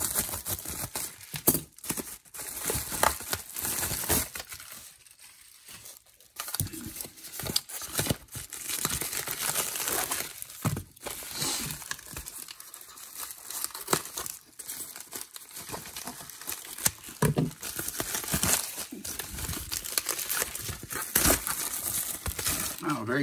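Mail packaging is torn open and handled up close, giving repeated bursts of crinkling plastic and tearing paper with brief pauses between them.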